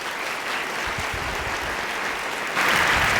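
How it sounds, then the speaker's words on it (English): Warm, continuous applause from a TEDx audience after a speaker is introduced, a dense wash of many hands clapping that swells louder near the end. "Please give a warm round of applause"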